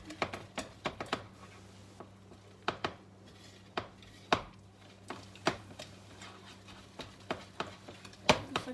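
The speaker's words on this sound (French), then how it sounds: "Donc je vais continuer à remuer mon beurre." A mixing tool stirs melted butter into pound cake batter in a bowl, giving quiet, irregular taps and scrapes with sharp clicks scattered among softer rubbing.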